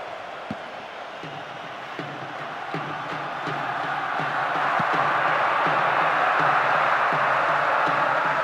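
A stadium crowd in the football video game PES 2009 roars steadily, swelling louder over several seconds, with faint rhythmic thumps beneath the broad din.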